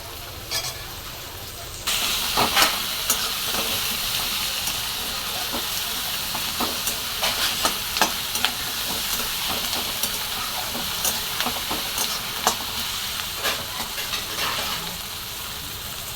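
Steady sizzling from a hot pan of sambar with cooked lentils, with scattered clicks and scrapes of a spoon stirring, fairly close and continuous, with no talking.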